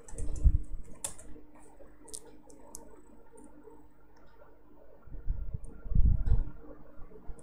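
Typing on a computer keyboard while entering values in a Google Sheets spreadsheet, with faint scattered key clicks and soft thumps at the start and end over a quiet room.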